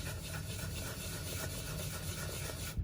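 Makeup brush rubbed back and forth on a paper towel, a soft continuous scratchy rubbing at close range, steady and quiet with no talk.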